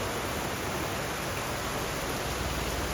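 Heavy monsoon rain in Kerala falls as a dense, even roar that stays steady throughout, with no voices.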